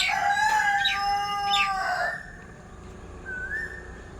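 A rooster crows at dawn: one loud, near, drawn-out crow with a rising and falling call, followed by a fainter, shorter call, with no voices.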